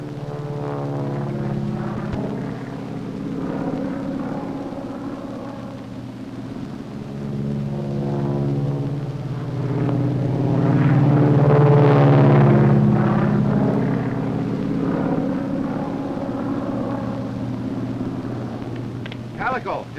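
Propeller airplane flying in to land in a 1936 aviation drama, a droning engine with wavering tones that swells louder midway, heard behind background film sound.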